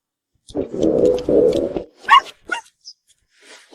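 A small white dog gives a drawn-out whining yelp, followed by several short, sharp barks spaced irregularly. The sounds are close and fairly loud, with quiet gaps between them.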